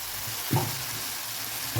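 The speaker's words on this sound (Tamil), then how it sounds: "நான் ஆனியன்லேயே போட்டு தேங்காயும் வதக்குறேன்" Onion and coconut sautéing in a pan for kanava (squid) kuzhambu, a steady soft sizzle with a couple of brief louder stir scrapes, close and alone without talk.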